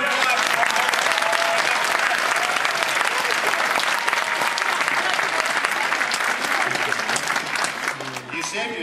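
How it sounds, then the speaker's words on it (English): Dense, sustained audience applause at a comedy panel with Bruce Campbell, loud and continuous for several seconds before tapering off slightly at the end. "Big round of applause."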